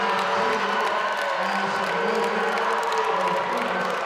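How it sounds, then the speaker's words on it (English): A crowd of fans in a school gym roars loudly and steadily for a girls basketball lay-in. Shouts and whoops rise out of the dense cheering, with a commentator's voice faintly underneath. "The BG fans' loudest cheer of the night for that basket."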